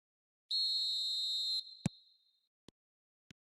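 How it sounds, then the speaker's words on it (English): A referee whistle in a football video game blows one long, shrill, steady blast of about a second, followed by a thump and a few sparse faint clicks in otherwise quiet surroundings. "There's the whistle."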